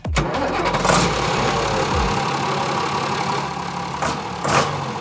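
A farm tractor engine cranks and fires up with a deep, heavy-truck-like rumble, then settles into a loud, close, steady run.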